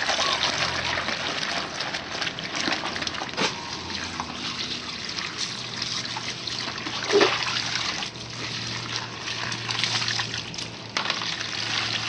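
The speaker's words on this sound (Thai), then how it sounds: "จากนั้นใส่น้ำลงไปแค่ประมาณพอท่วมชิ้นงานนะ" Water poured into a small basin over a metal workpiece before cold bluing, giving a steady trickling and splashing stream close by with a brief louder splash partway through, no talking.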